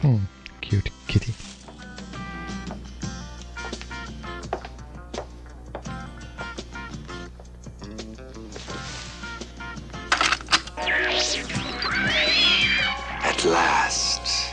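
A cat in a PS2 video game collection gives repeated meows over chiming game music, with a person talking at times during the sound.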